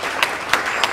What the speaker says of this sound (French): nous acclamons très fort pour les seigneurs